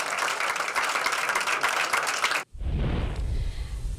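Crowd at a public commission meeting applauds after a 3-2 vote approving a master plan; dense, steady clapping fills the first half, cuts off sharply, then resumes as a duller, muffled crowd din.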